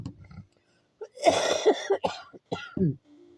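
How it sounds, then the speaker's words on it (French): A few sharp coughs ring out close by, with some throat clearing and a brief murmur in between, then quiet. "j'ai décidé de tousser tout pendant la vidéo"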